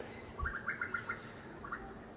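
Pigeons give a short run of faint, quick chirps and soft calls, spaced closely, over a quiet background with no talking.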